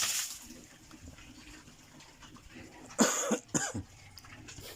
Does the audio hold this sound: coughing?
yes